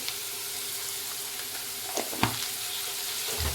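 Oil sizzles steadily in a pan with salt and turmeric powder added and no water, frying over a low flame. The hiss is constant and close, with a few soft clicks and a brief stirring scrape near the end.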